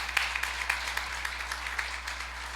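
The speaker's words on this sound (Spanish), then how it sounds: "La iglesia les recibe con un fuerte aplauso" A church congregation welcomes first-time visitors with applause, a soft, even patter of many hands with a few sharper claps standing out, heard from some distance in a reverberant room.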